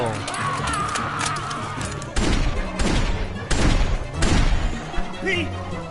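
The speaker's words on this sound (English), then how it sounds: "All them shots." Gunshots in The Walking Dead Season 2, several loud separate blasts arriving at irregular intervals after a quieter opening with game sounds, each shot sharp and close.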